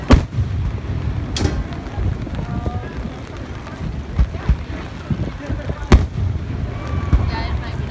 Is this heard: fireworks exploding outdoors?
yes